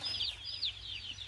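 Farmyard chickens clucking and calling in a steady run of short, bright squawks, fairly close and alone without talk, over a low background hum.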